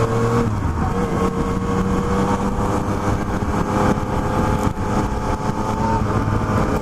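A new motorcycle runs in standard detuned mode, its engine producing a loud, continuous rumble with steady harmonic tones and slight shifts in pitch, heard up close with no talking.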